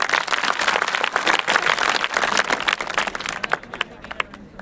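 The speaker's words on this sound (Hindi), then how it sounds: "जोरदार तालियां हो जाए।" Audience applause at a magic show, a dense burst of many hands clapping that thins out toward the end into scattered claps.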